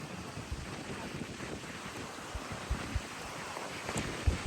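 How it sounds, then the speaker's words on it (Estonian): Strong wind buffets the microphone on a white-sand beach at Puerto Rico in Gran Canaria, a constant broadband rush with occasional low thumps and gusts, no talk over it. "Tegelikult on päris suur tuul."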